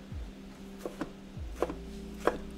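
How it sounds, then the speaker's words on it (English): Knife dicing cucumber on a cutting board: three sharp, separate chops spaced unevenly, close and fairly quiet, with a low background hum and no talking. "Do a little dice of the cucumber."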